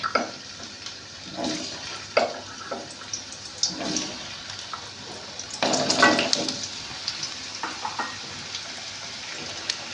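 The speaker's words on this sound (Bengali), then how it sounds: "আলুটা আমি ভেজে নেব" Potatoes sizzle in hot oil in a small wok (kadai), with irregular bursts of spattering and crackling that swell louder around the middle, set against a quieter background hiss.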